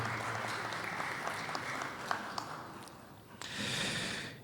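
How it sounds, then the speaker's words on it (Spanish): Audience applause at a territorial dialogue panel on hydrocarbons and energy in Tarija, Bolivia: scattered clapping in a hall, moderate and fairly steady, swelling briefly louder near the end. "Un aplauso para Harold Vladimir Torres Herrera."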